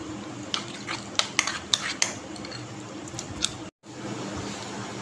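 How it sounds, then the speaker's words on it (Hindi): A spoon mixing salt and ground spices together in a bowl for a breakfast snack, with a quick run of close metallic clinks against the bowl followed by softer scraping and stirring, and no talk. "इन सारे मसालों को हम अच्छे से मिक्स कर लेते हैं।"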